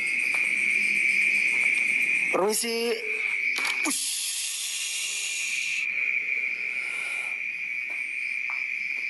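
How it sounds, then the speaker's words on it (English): A loud, continuous cicada drone fills the air, with a brief spoken word and other rustling sounds midway. "Yeah, cicadas, what we call them."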